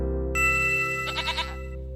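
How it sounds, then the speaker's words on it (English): A goat gives a short, wavering bleat with a quivering tremolo, heard clearly over a steady electronic background tone. "This is a goat"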